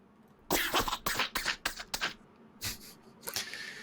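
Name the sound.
wheezy cough sound effect from a video game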